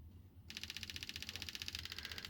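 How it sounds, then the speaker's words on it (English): An evaporative purge solenoid on a 1.5 Toyota Yaris Hybrid clicks rapidly and evenly when pulsed, a fast train of about twenty sharp, close ticks that starts abruptly and runs steadily to the end. "you can feel the clicking noise"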